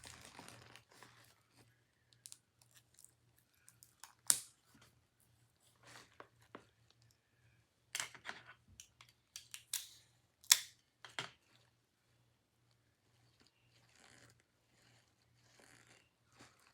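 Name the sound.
tape being applied to secure bath bombs in gift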